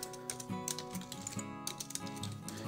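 Rapid, continuous typing on a computer keyboard while entering menu items into a WordPress plugin, a dense close-up patter of key clicks over a faint background hum.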